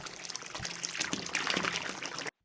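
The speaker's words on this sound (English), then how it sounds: "Here I've got some balloon rubber, bathtub water," Bathtub water recorded as Foley, a continuous trickling and pouring splash with a brief gurgle partway through, close and fairly quiet, heard alone before cutting off abruptly.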